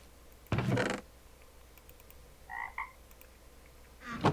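A frog in the Minecraft video game gives short croaks, a brief double-pulsed croak in the middle with scattered small clicks, between louder sharp thumps near the start and end.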